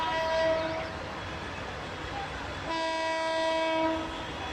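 A packed pilgrim train in Bangladesh sounds a loud, sustained horn in two long blasts separated by a short pause, over steady rumbling rail noise, with no speech.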